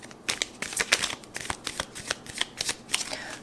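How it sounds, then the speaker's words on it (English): Tarot cards are shuffled by hand in quick, crisp riffling bursts and sharp snaps, close and clear, with brief gaps between the flurries. "One more shuffle."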